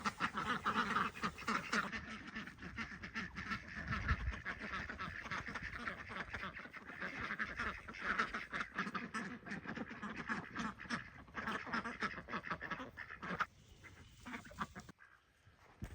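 Farm ducks quack loudly and continuously as they are fed, a busy chorus of many birds nearby, with splashing and rustling throughout.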